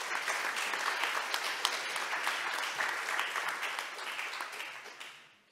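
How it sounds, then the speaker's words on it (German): A symposium audience applauds steadily, a dense patter of clapping that fades away at the end. "Das ist Ihr Applaus."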